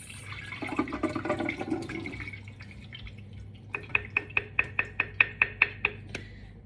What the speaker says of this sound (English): we're gonna pour out all the liquid